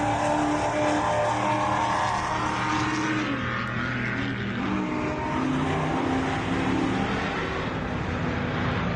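Off-road race vehicles roar past at the MetalCloak Stampede race, a loud, continuous engine drone with shifting revs and no pauses.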